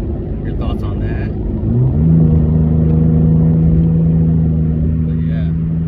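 A third-generation Toyota Tacoma with an MBRP Armor Lite dual exhaust rumbles close by, rising into a steady revved drone after a quick climb in pitch, with a deep, loud exhaust tone held to the end.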